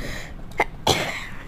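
Two short, sharp coughing bursts, the second louder and rougher, sound close by with no talking around them.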